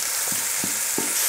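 Vegetables and onions frying in a hot stew pot for a beef pot roast, a steady close sizzle with three soft stirring scrapes spaced evenly through it.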